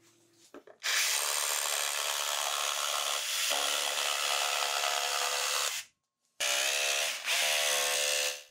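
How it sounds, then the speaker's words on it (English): A jigsaw cuts through a scrap wood board in two bursts, a loud buzzing rasp lasting about five seconds, a brief stop, then a shorter second cut, close up with no talking. "I made the cuts with my jigsaw"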